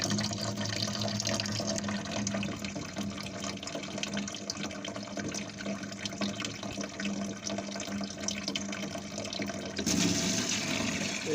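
Drain water from a Canature RO-400 direct-flow reverse osmosis filter rushes out in a strong, steady stream, a loud continuous splashing flow lasting about ten seconds before the sound shifts near the end.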